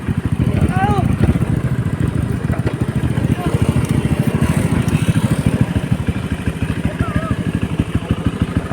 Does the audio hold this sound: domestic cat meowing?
no